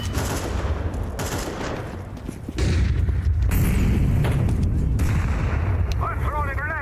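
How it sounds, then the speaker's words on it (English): Video game first-person shooter combat with a flashbang grenade going off amid gunfire: loud, dense booming blasts and rattling shots that swell into a sustained roar halfway through, with a brief whistling sweep near the end. "Throwing a flashbang."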